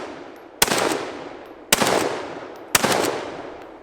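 A rebarreled Tikka T3x rifle in 22-250 with a 26-inch barrel fires three loud, sharp shots about a second apart, each cracking close and trailing off in a long outdoor echo.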